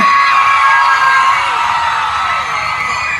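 A large concert crowd screams and cheers loudly, high-pitched shrieks and whoops blending into one continuous roar that fades slightly near the end.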